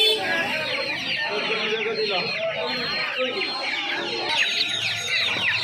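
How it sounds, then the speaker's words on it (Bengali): Australian chicks and hens in cages at the Uluberia hen market, a dense, constant chorus of high peeping and clucking with people talking among the birds. "তো এই খাঁচাটার মধ্যে দেখতে পাচ্ছ প্রচুর অস্ট্রেলিয়ান মুরগির বাচ্চা রয়েছে"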